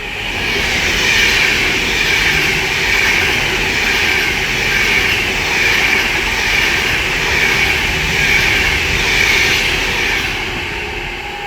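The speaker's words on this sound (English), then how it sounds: "right there is an Avanti West Coast Class 390 Piccadilly from Stafford to London Euston" An Avanti West Coast Class 390 Pendolino in Pride livery, running from Stafford to London Euston, rushes past at Watford Junction on the West Coast Main Line, a loud, sustained roar and rumble of wheels and motors for the whole stretch, with no talk.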